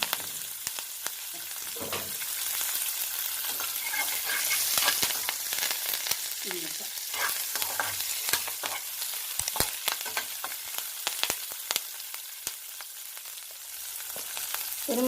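Urad dal, green chilies and curry leaves temper in hot oil, giving a soft, continuous crackle and sizzle with scattered sharp pops and light stirring clicks, close by and with no voices.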